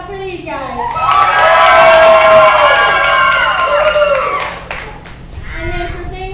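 Crowd at an alpaca costume contest erupts in loud clapping and high-pitched cheering and screaming from children to vote for a costume, fading after a few seconds, with talking at the edges.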